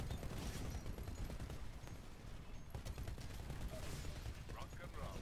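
Gunfire volley in the shooter game Titanfall: a dense, continuous barrage of rapid shots and mechanical clatter, steady and loud throughout with no pauses.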